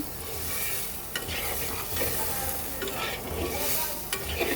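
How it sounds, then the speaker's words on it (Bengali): Masala paste for a Bengali tengra fish curry with potatoes and yardlong beans is stirred and fried with a splash of water. A steady close sizzle runs throughout, with spatula scrapes landing every second or so. "মশলাটাকে কষানোর জন্য দিয়ে দিলাম সামান্য পরিমাণে জল সব কিছু মিক্সড করে দিলাম"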